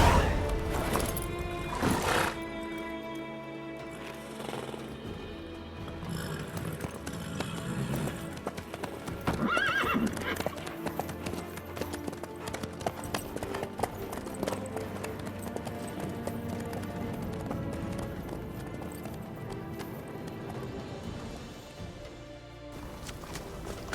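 Horse hooves clip-clop in a steady rhythm in The Witcher 3, loud and close throughout, over a game music score with a brief whinny.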